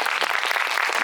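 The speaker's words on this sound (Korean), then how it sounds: "네, 박수 부탁드립니다." A cinema audience at an anniversary actors' Q&A screening of Drive My Car claps in a dense, steady burst of applause, loud and continuous throughout, with no voices standing out.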